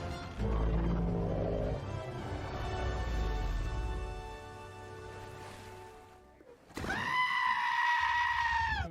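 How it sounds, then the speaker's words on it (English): A blobfish in the animated film Moana 2 lets out a loud, wavering scream that swells and fades, then a sharper, higher shriek bursts in near the end over a soft musical backdrop. "Why did that blobfish scream randomly?"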